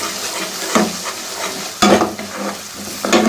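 Masala with green coriander and dried red chillies sizzles in a pan for a dal chana fry, with loud scraping stirs at intervals as it is mixed, no talking.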